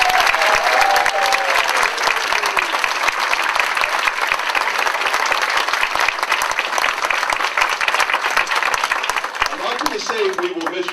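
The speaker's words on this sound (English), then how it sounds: "give Miss Barbara Simpson a round of applause" Audience applause at a political debate, dense sustained clapping from a large crowd that stays loud and even for about ten seconds, with a voice briefly rising near the end.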